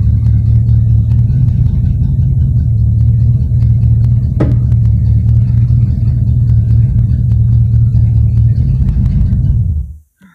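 A 1975 Dodge Tradesman van engine runs with a loud, deep, steady rumble close by for about ten seconds before abruptly cutting off into silence.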